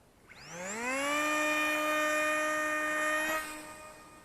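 Brushless-converted Flybear FX-820 SU-35 two-channel RC glider with a 290 mm wingspan, its motor spooling up into a steady high-pitched whine that holds near and loud before cutting off, leaving a faint fade.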